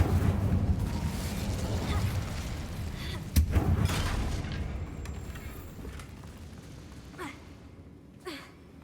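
Incendio fire spell cast in Hogwarts Legacy, a sustained roaring whoosh of flame with a sharp burst partway through, then fading, with combat noise around it.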